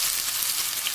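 Asafoetida (hing) dropped into hot oil alongside soaked moong dal, giving a steady, close broadband sizzle that holds evenly through the brief moment with no talk.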